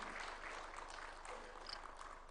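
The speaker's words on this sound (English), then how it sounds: "Why don't we welcome him with a hearty and warm clap as he comes to address us" A hearty round of applause from an audience welcoming the President at a state book launch, steady and fairly distant clapping throughout with no voices above it.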